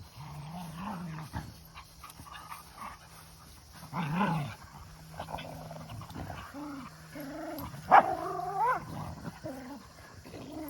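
Dog growling and giving short whimpers and barks while being carried on a walk, close but fairly quiet, with a couple of louder outbursts among low rumbling growls.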